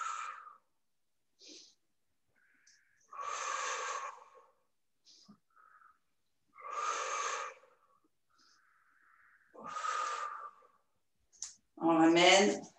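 Slow, deep breaths during an upper-body dumbbell stretching exercise, three long airy inhales and exhales spaced several seconds apart, close and clear, ending with a voiced sighing exhale.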